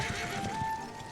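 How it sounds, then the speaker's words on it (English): A horse neighs in the Dragon Quest XI video game, one fairly loud whinny rising over a steady game soundtrack, with a bright drawn-out tone in the middle of the cry. "keep the horse on the straight and narrow"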